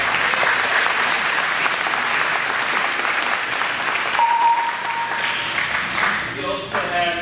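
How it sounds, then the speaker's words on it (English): Sustained applause from a graduation ceremony audience fills the room, a dense steady wash of many hands clapping with faint voices mixed in, tapering slightly near the end. "Please give a round of applause."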